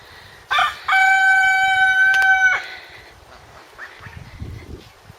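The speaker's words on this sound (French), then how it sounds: "Et notre coq qu'on appelle Savate à cause de ses grandes plumes aux pattes" A Sabelpoot rooster, a feather-footed breed, lets out one loud, close crow lasting about two seconds, followed by quieter farmyard rustling.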